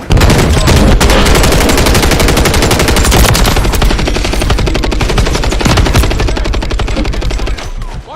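Rapid automatic gunfire rattles continuously and loudly in a first-person shooter video game match, dense bursts overlapping with little pause for about eight seconds.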